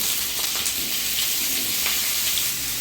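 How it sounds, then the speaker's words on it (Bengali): Carrots and potatoes frying in hot mustard oil in a kadai, a dense continuous sizzle and hiss with faint occasional clinks of stirring, close by and with no talking. "তেল গরম হয়ে গেছে, গাজরটা আলুটা দিয়ে দেবো।"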